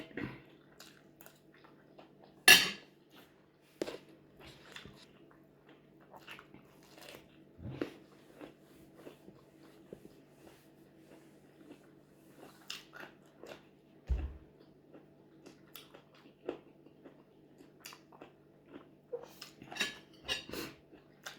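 Quiet eating of mushroom in large bites, with scattered soft crunches and chewing clicks spread across the span, plus a few louder bites and occasional utensil or dish knocks, no talking.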